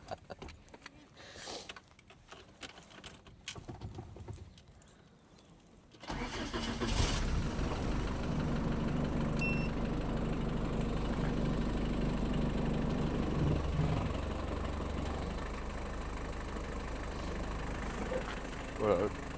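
A car engine starts after some quiet handling noise, then runs steadily and loud as the car drives, with a people talking faintly over the engine.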